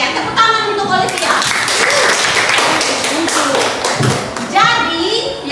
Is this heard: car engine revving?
no